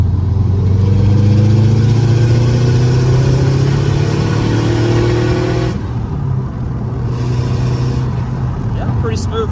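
Tuned Subaru WRX engine pulling hard in third gear on a cold, snowy road, heard from inside the car as a loud, steadily rising drone that cuts off near the end, followed by a quieter rumble.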